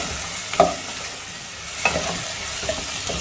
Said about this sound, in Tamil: குடமிளகாய் போட்டு வதக்கலாம்.